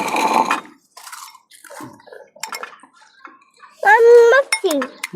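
A spoon mixes viral-style chips in a bowl, giving scattered light clinks, scrapes and crunchy rustles. Voices talk nearby, and one voice rises louder toward the end.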